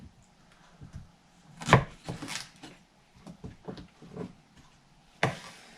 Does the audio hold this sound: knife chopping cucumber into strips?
yes